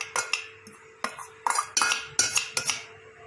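Spiced potato filling is mixed with green chutney in a bowl, a spoon clanking and scraping against the dish in a series of sharp, close metallic knocks at an irregular rhythm, fairly loud and with no talk.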